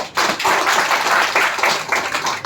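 An audience clapping loudly at a motivational talk, a dense burst of applause lasting a couple of seconds, close and steady without speech over it.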